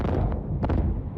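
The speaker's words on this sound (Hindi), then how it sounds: "लगातार हो रहे धमाकों के बीच" Deep, rumbling blasts from an attack in Russia, a heavy low roar with a couple of sharper cracks rising out of it, close and loud with no voices.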